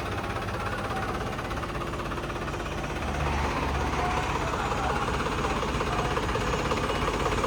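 A tractor engine idles steadily nearby at the Hola Mohalla festival in Anandpur Sahib, a constant low chugging rumble with a rough mechanical texture and no pauses.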